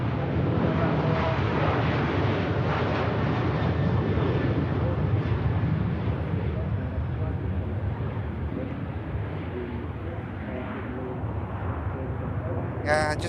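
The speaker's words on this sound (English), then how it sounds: "So here comes the Ryanair 737 off to Bergamo" A Ryanair Boeing 737 jet departs Manchester Airport, its engines a loud, broad sustained roar that holds steady for several seconds before slowly easing, with a brief sharp sound near the end.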